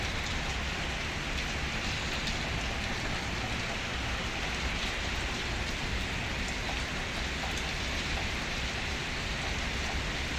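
Steady rain pours down on surfaces in the UAE, a dense, unbroken hiss holding at an even level throughout, with no talking.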